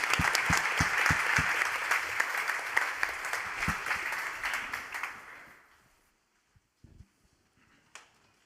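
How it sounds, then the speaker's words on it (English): A conference audience at a general assembly session applauds a panel, dense sustained clapping that fades out after about five seconds, leaving a few scattered claps and movement noises. "I ask a round of applause for this panel."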